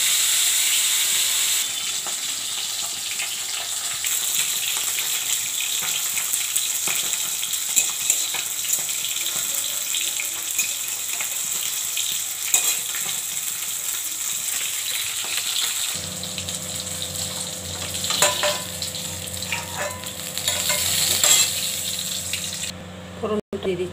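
Marinated fish sizzles in hot oil in a home kitchen, a continuous frying hiss that changes partway through as the cooking shifts, with faint clatter and occasional voices in the background.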